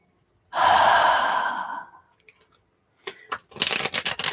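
A long, steady exhale of breath, close and fairly loud for over a second, followed by soft rustling and brief shuffling sounds against quiet in a calm ASMR setting.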